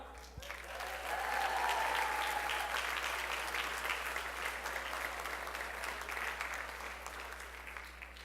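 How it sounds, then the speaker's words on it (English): A school crowd applauds at the Strongsville City Schools spring band concert, clapping swelling quickly to a full, dense roar and then easing off gradually over about eight seconds, with a low steady hum underneath. "Come on, clap him across."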